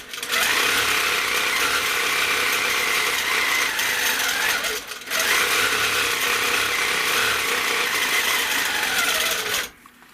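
A sewing machine stitches loops on a quilt in a ribbon-candy pattern, a loud, steady mechanical whir running continuously with one brief pause midway and stopping near the end.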